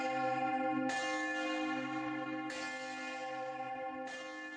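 A middle C tenor church bell, 4,200 weight, cast at Whitechapel in 1956, struck three times at a steady pace, each loud bright strike ringing on into a long sustained hum with no voices.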